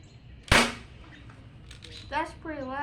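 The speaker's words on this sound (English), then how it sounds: "we are going to shoot with a BB gun" A single sharp BB gun shot cracks out loud and close, followed by a quiet pause and then people talking.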